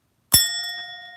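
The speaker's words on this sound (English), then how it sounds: "today, we have the bell for the first time" A small desk bell is struck once, giving a sharp near ding with a bright ringing tone that rings on and slowly fades over about a second, heard alone with no talk.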